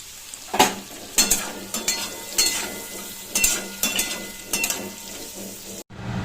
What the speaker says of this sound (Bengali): এই তেলের মধ্যে এবার আমি গাজরগুলো ভেজে নেব